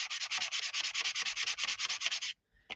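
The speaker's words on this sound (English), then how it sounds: "I'm going to take a sanding block, piece of sandpaper, an emery board" Sandpaper on a sanding block rubs back and forth in quick, regular strokes over shrink art plastic, a close, raspy scratching that stops abruptly, followed by one short final scrape.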